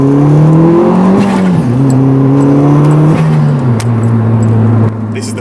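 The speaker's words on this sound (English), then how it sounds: "We've got a microphone running all the way to the turbo." Turbocharged Ford Fiesta MK6 ST150 recorded from a microphone under the engine bay, the engine droning loud and close with pitch climbing and dropping between shifts and a rough, strong tone throughout.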